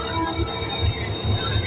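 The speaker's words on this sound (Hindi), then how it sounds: "तो ये है हमारा लोकोमोटिव" Rehman Baba Express train with its HGMU-30 locomotive idling at a station, a steady low diesel rumble and rail-yard hum running continuously without speech.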